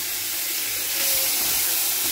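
Potatoes frying with neem leaves in a pan, a steady broadband hiss of oil that swells slightly midway, close and continuous with no talk.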